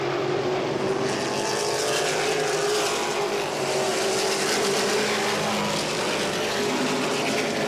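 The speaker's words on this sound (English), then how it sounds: "The 3 car of Scott Lawrence tried to make a move on Winstead." Modified race cars lap Langley Speedway at full throttle, a dense, continuous engine roar that holds loud and steady with no voices over it.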